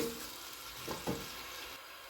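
Chopped onions hiss softly in hot oil in a pot on the stove for a milky celery soup, a faint steady sizzle broken by a couple of brief stirring clicks.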